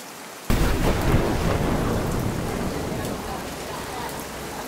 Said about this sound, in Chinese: 但是因为现在天气下雨，我们就只能先来这里面躲雨了